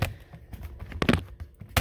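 Plastic clicks and sharp snaps as a spudger pries open the keyboard deck of an HP Chromebook 11 G5 EE laptop during repair, several close separate cracks with quiet gaps between them and no talking.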